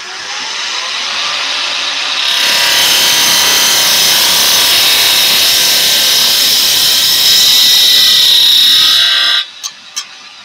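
Woodturning on a lathe with a spindle gouge: a steady hiss and scraping whine as the tool cuts the spinning wood, loud and continuous for several seconds before stopping abruptly, followed by a few knocks.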